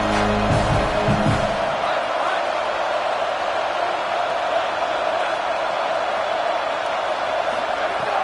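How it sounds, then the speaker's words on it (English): Loud home crowd noise at an Ohio State Buckeyes football game against Texas, a broad sustained roar filling the stadium with a few heavy thumps at the start, continuous and steady throughout. "Man, this crowd really affecting the football game."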